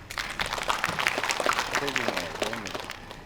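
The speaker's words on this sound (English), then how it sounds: "I think the government needs a hand clap. Please applause." An audience at a Manipur cinema golden jubilee celebration applauds the government, a dense crowd clapping heard steadily beneath a voice speaking over it.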